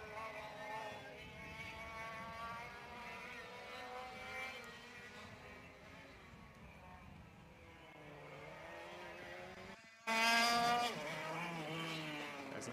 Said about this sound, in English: James Barclay is coming around to complete his second lap